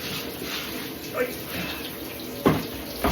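Tap water running into a bowl while rinsing and filling it, a steady close splashing rush with a couple of clunks of the bowl.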